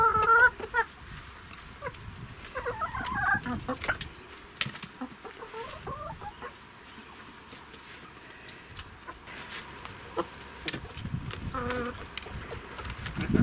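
Five backyard garden hens cluck softly in short scattered bursts over a buzz of flies and insects, fairly faint and outdoors with occasional rustling.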